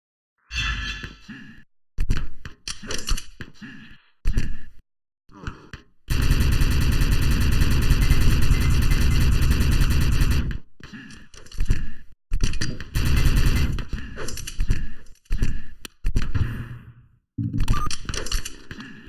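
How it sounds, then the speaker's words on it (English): Rapid plasma gun fire in an Open Arena competitive Blitz duel, coming as stuttering bursts of shots, then a long continuous stream of fire lasting several seconds, followed by more short, choppy volleys. "It looks like he's found his weapon of choice, which will be the plasma gun."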